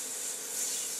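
Hand sanding of wood with 180-grit sandpaper, done by hand rather than with an orbital sander, gives a steady close scratching rasp that runs without a break.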